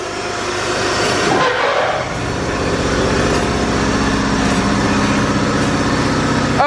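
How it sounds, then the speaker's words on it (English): An air compressor at a Speedway gas station car wash in Salt Lake City runs loud and steady, a continuous mechanical hum and rattle that dips briefly, then carries on unbroken with no talking. "Oh, it was an air compressor, my bad."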